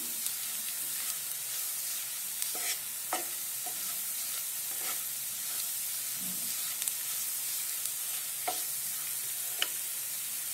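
Garam masala sautéed in a pan for chana masala (chickpea curry): a steady low sizzle with intermittent scrapes and clinks of a spoon stirring, close and moderately loud, no voices.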